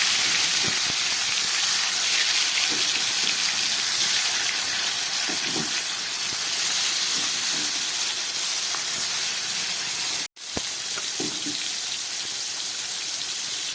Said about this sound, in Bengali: তেলটা গরম হয়ে গেছে, বা মাছগুলো ভেজে নিচ্ছি।